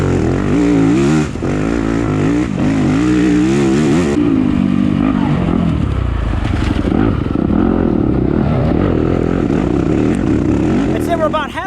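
A stock Yamaha YZ250F dirt bike races through mud in a harescramble, its engine droning and revving loud and close throughout, pitch rising and falling with throttle changes, and a brief spike of high revving at the end.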